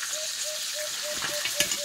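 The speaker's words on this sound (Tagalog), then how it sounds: "This is matambaka. Fry matambaka." Matambaka fish fries in a pan with a steady, even sizzle and a few small pops, alongside a faint, regular beeping tone in the background.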